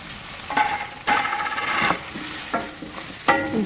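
Crushed garlic and fish sauce fry in a pan for prawn biryani, a steady sizzle with repeated stirring scrapes and clanks, close and moderately loud, with no talking.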